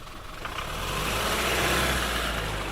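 A truck drives up a bumpy rural valley road in Portugal, its engine rumbling steadily and swelling slightly as it moves along, with no talk.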